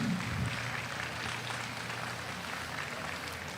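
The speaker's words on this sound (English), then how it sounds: "let's give them a round of applause" A crowd at a San Antonio market steer show gives a round of applause, a soft, steady patter of clapping heard from a distance in a large arena, continuing evenly throughout.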